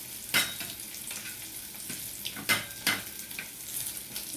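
Fish fries in a pan over a low flame with a steady, soft sizzle, broken by a few sharp clatters of a utensil against the pan, close and without talk.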